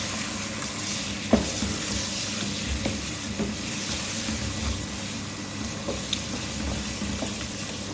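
Beef sizzles in a pan as ginger garlic paste is stirred in, a steady close frying hiss broken by occasional spoon scrapes and clicks.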